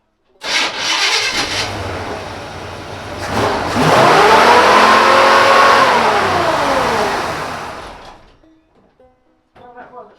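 An old car engine cranks briefly, catches and races with a stuck accelerator, surging to a loud sustained high rev before winding down and cutting off. A few faint knocks follow near the end.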